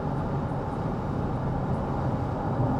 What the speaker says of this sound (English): It's a U-Haul truck or something with no lights on.